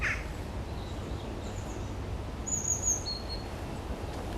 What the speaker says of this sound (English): This is probably one of my favourite things about autumn, is that bird song in the morning. They're so loud.